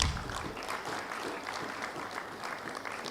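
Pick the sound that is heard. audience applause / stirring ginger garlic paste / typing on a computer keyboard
audience applause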